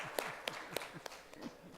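Scattered clapping from a conference keynote audience thanking the speaker, a handful of sharp, fairly faint claps at an uneven pace.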